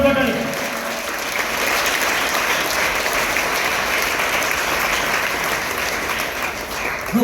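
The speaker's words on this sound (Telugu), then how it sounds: "గట్టిగా చప్పట్లు కొట్టాలి." Loud, sustained applause from a crowd at a Christmas celebration in Veldurthi, a dense steady wash of clapping lasting throughout with no break.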